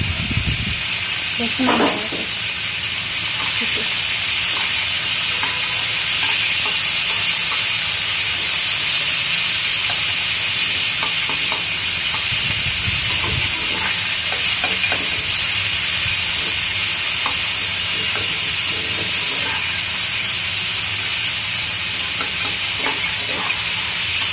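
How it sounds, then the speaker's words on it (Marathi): Onion frying in a pan on a Marathi home stove until reddish, giving a steady loud hiss and sizzle throughout with a few faint clinks of stirring. "तो कांदा लालसर मिक्सर भाजायचा"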